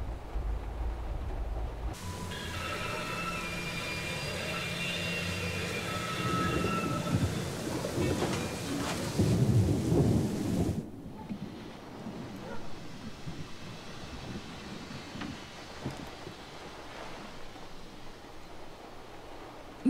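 A thunderstorm in the video game Syberia: The World Before, with steady heavy rain and a rolling thunder rumble in the first half that eases to softer rainfall, continuous and enveloping.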